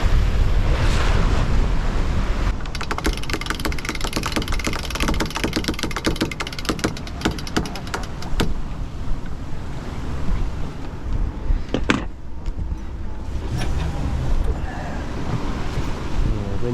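Steady wind and sea wash around a sailboat on a rough crossing, roaring broadband noise with buffeting gusts on the microphone and waves slapping the hull, continuous and loud throughout.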